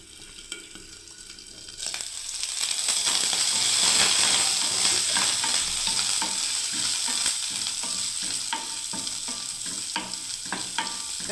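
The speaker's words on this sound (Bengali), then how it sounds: "করলাটা বুঝতেই পারছেন ভালো ভাজাই হয়ে গেল করলাটা।" Bitter gourd sizzling in a frying pan, a steady close crackle of oil with scattered stirring clicks and scrapes, rising after a quieter first two seconds and continuing to the end.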